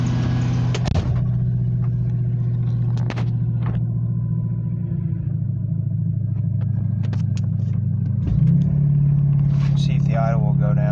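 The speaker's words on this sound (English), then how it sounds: "See if the idle will go down. The idle is kind of stuck." A 1999 Ford F-250 truck engine idles with a deep, steady rumble close by, with a slight bump in pitch near the end, while a person talks over it.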